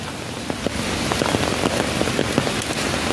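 Heavy rain pours down during a black rainstorm, a loud, dense, continuous hiss with sharper drop impacts scattered throughout, close and enveloping with no talk.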